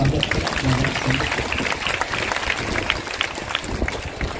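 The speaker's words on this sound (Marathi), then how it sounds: "भंतेजी आपका नाम सॉरी जोरदार टाळ्या भंतेजी" An audience claps loudly for a Thai bhante at a kathina robe-offering ceremony in Nanded: dense, steady applause throughout, with a voice briefly audible near the start.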